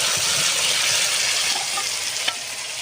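Chicken stomach and jackfruit sizzle and fry steadily in a hot pan, a loud, close, continuous crackle with a faint stirring knock near the end and no talking.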